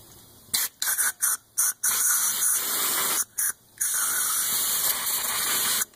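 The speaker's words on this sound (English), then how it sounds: "there's not much to spraying it with brake clean" Brake cleaner sprayed from an aerosol can onto a Corvette C5/C6 axle boot: several short hissing bursts, then two longer sustained sprays, close and loud.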